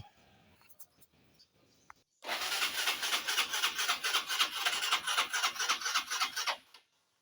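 After a quiet start, a motorcycle engine with a fouled spark plug cranks with a steady, rapid rasping rhythm for several seconds without catching, then stops.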